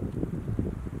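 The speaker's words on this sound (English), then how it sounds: "even though it's super windy right behind me" Wind gusting around a tarp shelter at a snowy winter camp during a snowstorm, a steady low rumbling buffet with rhythmic surges, close and fairly loud, no voices.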